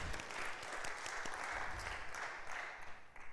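Steady applause from an audience at a public lecture, a dense patter of many hands clapping at moderate distance, sustained evenly with no talk over it.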